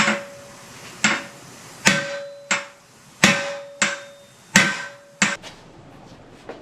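Hammer blows on the perch pins of an early 1939-1948 Ford straight front axle, about ten sharp metallic strikes at a steady, slightly uneven pace, each ringing briefly with a clear metallic tone, close and loud.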